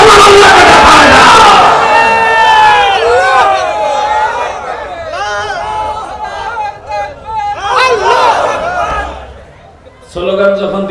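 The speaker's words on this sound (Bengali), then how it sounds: "স্লোগান যখন দিচ্ছেন তা আমার মন মতো করে দেন।" A large rally crowd in Rangpur shouts slogans together in loud, rising chorused calls, with a leader's voice and crowd babble mixed in between the chants.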